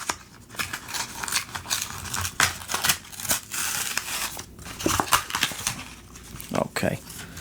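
Packaging of a fake Apple phone case being ripped open, with close crinkling, tearing and scissor-like snips in uneven bursts, while a person talks over it.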